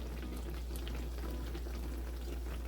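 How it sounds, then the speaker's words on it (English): Self-rising-flour fry bread sizzles in hot oil with a steady, dense bubbling crackle that stays constant throughout. "make sure when you're frying your fry bread"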